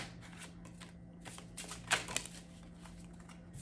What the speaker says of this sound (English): That was a really messy shuffle.